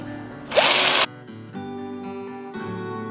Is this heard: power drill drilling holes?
yes